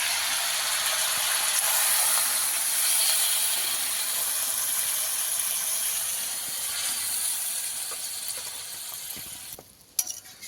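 Water going into a hot pan of snakehead fish curry with drumsticks, setting off a loud continuous hiss and sizzle that holds steady, then drops away near the end with a short clink.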